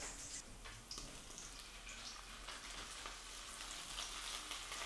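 Gulf shrimp and onions frying in a pan give a steady, close crackling sizzle with soft hissing, continuous throughout, and no talking.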